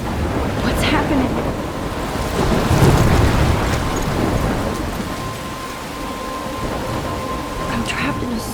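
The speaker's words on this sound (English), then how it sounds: "I'm trapped in a storm?" A heavy thunderstorm in the video game Life is Strange, with steady loud rain and rolling rumbles of thunder swelling near the middle, while wind gusts over the downpour throughout.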